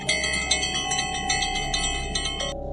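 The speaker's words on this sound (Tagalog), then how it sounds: "kinuha niya ang kampanilya. At buong lakas niyang pinatunog" A bright metallic handbell rings rapidly and repeatedly, its strikes coming in a fast, even rhythm over a low background hum.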